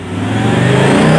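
A Ford Escort mini monster truck with a 3.5 engine revs up during a workshop tune-up covering emissions setup and ignition timing, a close, loud, rising engine note building steadily through the short burst.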